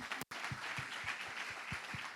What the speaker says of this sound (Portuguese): Vale um aplauso para vocês.